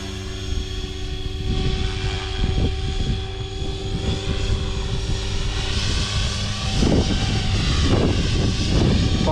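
A 500XT model helicopter flies in a good wind, giving a steady, fairly loud whining engine and rotor drone with constant tonal lines, plus rushing wind bursts and heavier buffeting near the end, with no talk.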